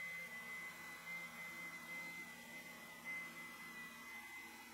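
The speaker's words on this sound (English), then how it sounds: "I continue the shaping of the handle on the oscillating spindle sander." Oscillating spindle sander shaping an old English ash wood handle, a steady continuous whirring hum with a low rumble that holds at even loudness throughout, with no voices.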